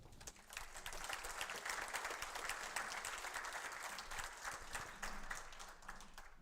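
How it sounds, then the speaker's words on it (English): A conference audience at a network operators' meeting applauds to welcome a speaker to the stage: dense, even clapping from a roomful of people, steady for several seconds and tapering slightly at the end. "So please give him a round of applause."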